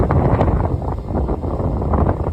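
Strong wind blows at night in the aftermath of Storm Ciaran, a loud continuous rumbling buffet across the microphone that gusts unevenly throughout, with no voices.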